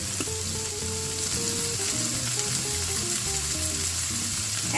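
Thyme is dropped into a frying pan of tomatoes with oregano, heard as a loud continuous sizzle with faint stirring scrapes and no talking.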